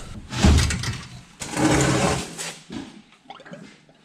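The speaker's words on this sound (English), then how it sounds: "now our condensing unit should be free to slide out." A refrigeration condensing unit being slid out of a reach-in cooler during a compressor replacement, giving two loud, broad scraping and rumbling bursts of metal dragging, then quieter clicks and small clatters.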